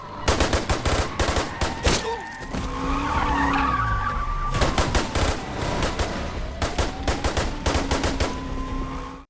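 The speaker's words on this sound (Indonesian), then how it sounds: "Dalam aksi baku tembak itu, Gabriel yang hanya seorang diri bisa menumbangkan beberapa polisi." Repeated bursts of gunfire crack out in rapid volleys, with tire skids and engine roars between them, loud and chaotic like a staged shootout.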